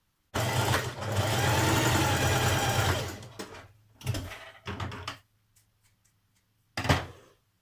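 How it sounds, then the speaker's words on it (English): A sewing machine stitches the neckband seam of a jersey dress, running steadily for about three seconds, then giving two short bursts and a final brief run, with no talking. "on your neckband, we're going to stitch the neckband seam here."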